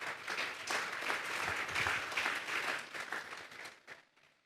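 Applause from the congregation at a youth church service, a fairly full burst of clapping that swells and then thins out and fades toward the end.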